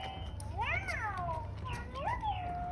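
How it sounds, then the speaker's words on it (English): A FurReal Walkalots Unicorn Cat toy gives two drawn-out electronic meows, one after another, loud and close against a low background hum. "She meows a lot."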